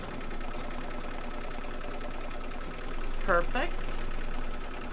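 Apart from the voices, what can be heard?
embroidery machine stitching down a quilt block piece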